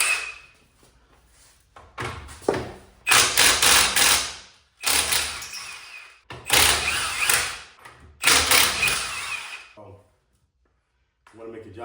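Milwaukee impact wrench fitted with a 22-inch impact socket hammering on a Dodge Charger wheel during a widebody kit install, several loud close bursts of a second or two with short pauses between them.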